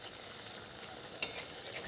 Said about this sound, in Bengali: এইবার ফ্লেমটাকে একদম হাইতে রেখে এগুলোকে ভেজে নিচ্ছি